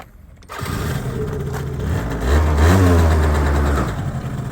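A Yamaha Jog SA16 scooter, a Japanese import in clean condition, fires up and settles into a steady mid-pitched idle, then the revs climb and hold before easing back, loud and close.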